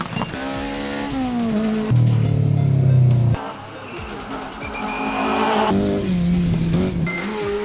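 An NRC4 rally car races through a stage with engine revs rising and dropping through gear changes, and tires squeal loudly in sustained skids, close and powerful throughout.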